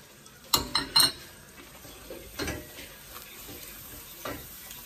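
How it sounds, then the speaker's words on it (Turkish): Onions sautéing in a pan, with a few sharp utensil scrapes and clinks against the pan near the start and quieter stirring over a low, steady sizzle. "Soğanlar iyice yumuşayıncaya dek kavuracağım"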